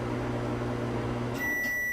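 Microwave oven heating pizza, a steady low hum running for over a second before stopping, followed by a couple of sharp high beeps, close and fairly quiet with no talking.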